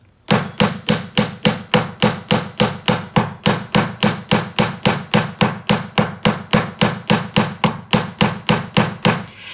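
A hammer texturing a wide band metal ring strikes in a fast, perfectly even rhythm, about three blows per second, each a bright close metallic tap, continuing steadily throughout.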